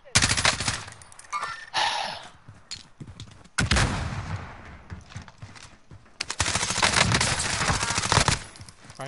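Automatic gunfire in the Warzone video game, loud bursts of rapid shots in several long stretches with brief gaps, layered with game noise.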